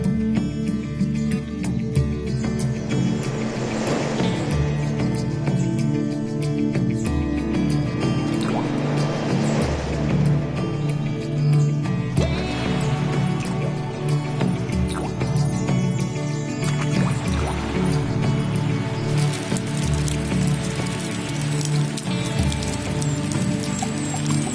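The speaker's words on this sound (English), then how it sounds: "For creatures as small as insects, the huge raindrops can be lethal." Large raindrops patter and splash on leaves in a rainforest, a dense, irregular dripping with heavier bursts of drops rising and falling over a constant wet background.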